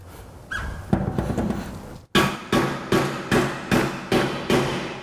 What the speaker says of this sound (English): Tap it all the way in until you hear the pitch change.